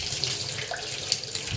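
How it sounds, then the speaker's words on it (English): Hot soapy water runs from a tap into a container for cleaning a Yard Machine MTD mower deck and spindle, a steady close gush and splash that fills the whole clip. "Now it's time to fill this up with hot soapy water."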